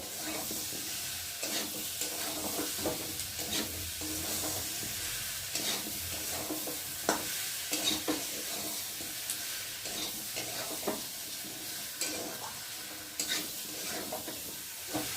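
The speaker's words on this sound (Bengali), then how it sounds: "আর এখন এই যে ভেজে রাখা চিংড়ি মাছটাকে দিয়ে দেবো। একসাথে সব কিছু ভালো করে কষিয়ে নেব।" Fried prawns are stirred and sautéed in a pan for a prawn curry. Oil sizzles steadily beneath repeated close scraping strokes of a spatula, with no voices.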